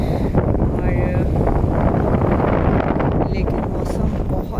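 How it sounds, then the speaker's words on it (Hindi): Strong cold wind buffeting the microphone outdoors at a picnic in Saudi Arabia, a loud constant rumbling roar with gusty fluctuations throughout. "बहुत ठंडी हवा चल रही है इस वक्त"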